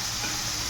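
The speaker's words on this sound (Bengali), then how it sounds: "সামান্য পরিমাণে জিরা দিয়ে একসঙ্গে ভেজে নেব।" Cumin seeds frying together in a pan with the other ingredients for a prawn, potato and aubergine curry, a steady close sizzle and hiss running without a break and with no voices.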